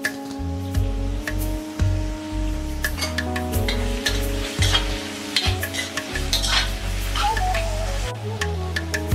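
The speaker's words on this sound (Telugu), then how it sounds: "ఒక 2-3 నిమిషాల పాటు మెంతి కూర ఉల్లిపాయలు అన్నీ కూడా బాగా మగ్గిపోయే వరకు." Onions, fenugreek leaves and curry leaves sauté in a pan with loud, close sizzling, while a spatula scrapes and stirs repeatedly and pieces squish against the metal. No one speaks.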